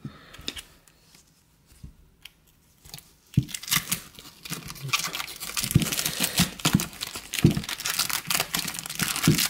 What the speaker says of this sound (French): Donc je vais déballer, comme ça je vais vous les montrer.